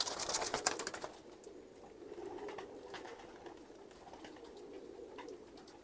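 Pigeons of various breeds coo in a loft, a soft low cooing that continues steadily after a burst of wing flutters and scrabbling at the start, close and moderately loud.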